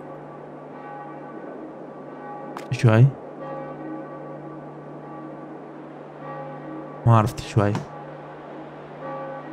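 A church bell in the Farming Simulator 22 video game rings as a steady, sustained tonal hum through the whole stretch, while someone speaks briefly over it twice.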